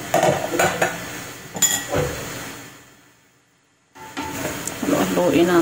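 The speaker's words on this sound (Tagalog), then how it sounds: "Haluin natin." A spoon clanks and scrapes against a cooking pot of chicken and tomato stew, with several sharp metallic knocks early on, a brief near-silent gap, then resumed clattering and bubbling as the pot is stirred.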